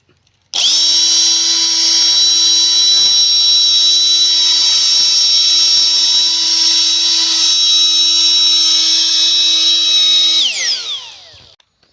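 High-power electric air blower runs continuously with a steady, loud, high-pitched whine that starts abruptly, holds for about ten seconds, then winds down.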